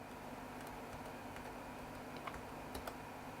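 Someone types on the keyboard of a Sony VAIO PCG-FX501 laptop, making faint, sparse key clicks over a steady background hiss.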